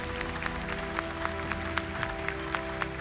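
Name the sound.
audience applause for five contestants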